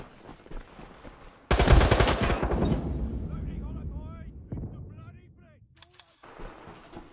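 A grenade explodes in the shooter World War 3 during a team deathmatch in Moscow, a sudden loud blast with a rumbling tail that slowly fades, followed by scattered gunfire and distant battle noise.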